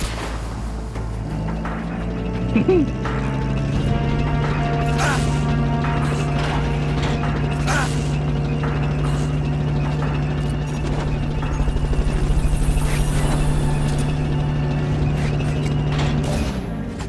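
A Fulton recovery in Metal Gear Solid Peace Walker plays out as a mechanical whirring drone that holds steady, with ratcheting clicks and sharp transient bursts as the subject is winched up to the helicopter, all without speech.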